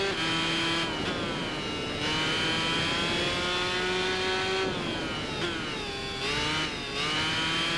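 Honda racing motorcycles in the game Tourist Trophy, Challenge Mode: a sustained, high-pitched engine whine that rises and falls with gear shifts and throttle changes, loud and continuous with no talk.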